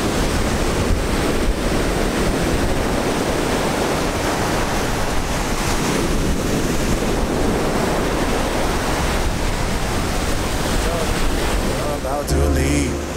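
Rough surf crashes and roars continuously on North Carolina's Crystal Coast, mixed with heavy wind buffeting the microphone, loud and unbroken throughout.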